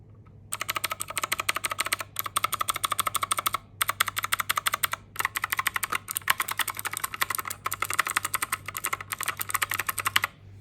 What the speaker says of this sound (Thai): พอมันเป็นบูสวิตปุ๊บเสียง มันก็จะเสียงดังฟังชันแบบนี้นะคะ